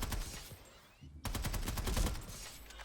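NS-15M rifle firing in a video game, rapid bursts of gunshots in quick succession with a brief pause near the start, loud and close.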